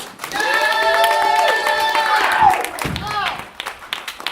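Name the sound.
audience applause welcoming a band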